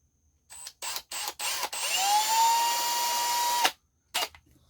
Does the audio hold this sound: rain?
no